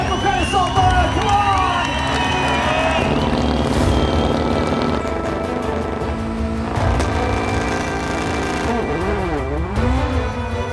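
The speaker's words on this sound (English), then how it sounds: "Let's hear it for Petter Solberg." Spectators at the Simola Hillclimb cheer for the winner amid a loud, steady crowd roar with engine noise mixed in, while an announcer speaks over the top.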